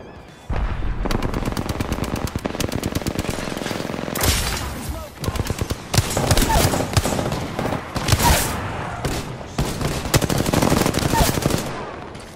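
Rapid automatic gunfire in the Apex Legends battle royale game, dense close bursts and long sustained volleys with brief pauses between magazines, loud and continuous; a voice speaks briefly over it.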